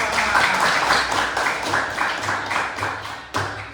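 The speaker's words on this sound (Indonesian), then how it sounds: "Tepuk tangan, masuk kelas." A class of young schoolchildren clapping hands together in a classroom, a short close burst of uneven claps and taps that tapers off near the end.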